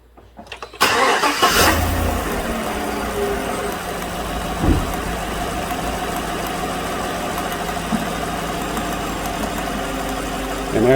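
A 2016 GM truck's 5.3 engine, recovering from a stuck lifter, cranks and fires up about a second in, then settles into a steady, fairly close idle with faint ticking throughout.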